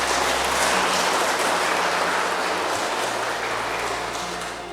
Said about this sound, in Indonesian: mari kita memberi kepada mereka tepuk tangan yang meriah untuk menyambutnya